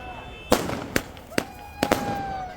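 Celebratory fireworks and firecrackers in Baramulla, Kashmir, five or six sharp bangs and pops spaced irregularly, with faint whistling trails between them and distant echoes.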